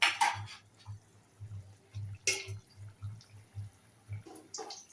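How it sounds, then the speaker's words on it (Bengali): Water poured into a Bengali fish curry of raw fish in a mustard and poppy seed paste, heard as a run of regular low glugs and splashes close by, with a few brief clatters from the pot. "এবার আরেকটু জল লাগবে এর মধ্যে"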